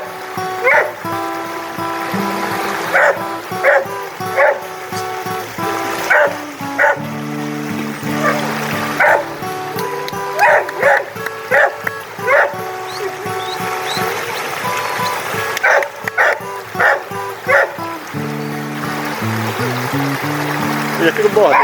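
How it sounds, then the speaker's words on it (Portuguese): Dogs bark again and again while splashing and playing in a river, the sharp barks repeating in irregular bursts over steady running water. "Cachorro refrescando o rio."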